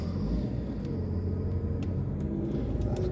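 Car engine rumbling steadily on a sandy beach at False Bay while a stuck car is pulled out of the sand, a continuous low drone with wind and faint clicks.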